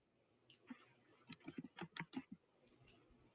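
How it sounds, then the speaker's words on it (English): A computer keyboard typed on in a short quick burst of soft clicking keystrokes, faint and close, with near silence before and after. "if I just start typing"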